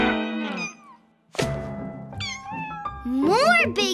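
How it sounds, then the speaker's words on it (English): Cartoon kittens meow in a playful animated scene with big balls of wool, several bright rising and falling cries in quick succession, close and loud, with a brief pause between them. "Big kitty!"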